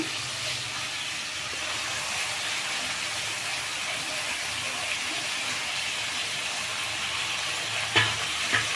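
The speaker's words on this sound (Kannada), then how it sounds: "ಪಾಲಕ್ ಸೊಪ್ಪು ಹಾಕ್ತಾಯಿದ್ದೀನಿ" Spinach leaves frying in a pan for chutney, a steady loud sizzle and hiss with faint stirring, and a couple of small clinks near the end.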